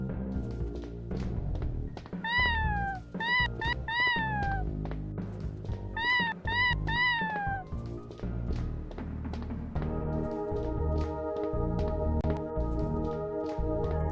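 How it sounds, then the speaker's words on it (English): A cartoonish cat meows repeatedly in the video game Plumbers Don't Wear Ties, two rising-and-falling triple meows sounding clearly over steady game music, with no one talking. "It's a cat."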